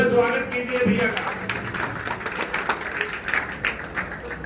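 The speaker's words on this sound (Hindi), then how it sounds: "तालियों से स्वागत कीजिए भैया का।" Scattered applause from a political gathering welcoming a new Aam Aadmi Party member, moderate and uneven with clustered claps under a noisy hall, with some voice mixed in.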